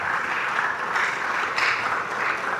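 Steady audience applause at a students' conference, dense and even with no voices over it, lasting throughout.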